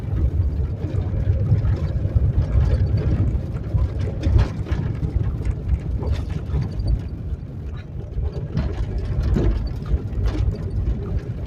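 A car creeps slowly along a rough dirt field road, its low engine rumble and road noise steady and close throughout, with scattered knocks and rattles from the uneven surface.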